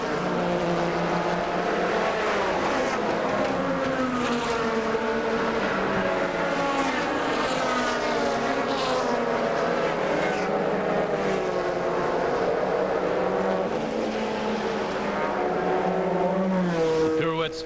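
Racing cars at the Silverstone track in a 2005 Le Mans Endurance Series race circle behind the safety car, their engines droning and rising in pitch as they pass, with commentary talking over them throughout.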